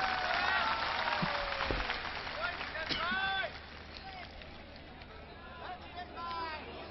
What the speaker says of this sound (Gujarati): તમામ સમાજના પ્રતિનિધિઓને જોરદાર તાળીઓથી વધાવીએ